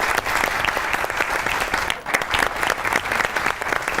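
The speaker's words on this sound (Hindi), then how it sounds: "दोनों के लिए ताली बजाइए पहले तो।" Studio audience applause on a talk show, a dense, loud wash of clapping that holds steady for several seconds with a brief dip midway before swelling again.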